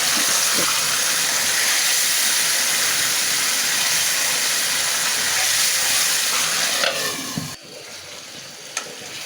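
Hilsa fish sizzles steadily and loudly in a hot pan of spiced oil for a Bengali fish curry, a dense continuous frying hiss that drops off sharply near the end.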